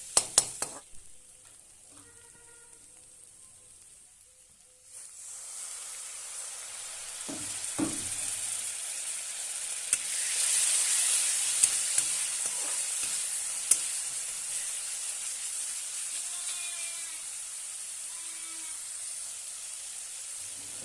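Spice paste with red chili powder and a splash of water sautéing in a pan for egg and potato kofta curry: a few sharp clinks, then a strong sizzle swelling with stirring scrapes, close and continuous.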